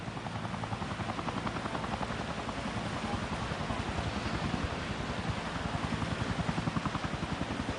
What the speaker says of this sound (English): you can hear the helicopters in the background